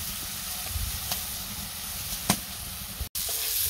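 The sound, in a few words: sautéing green chilies in a pan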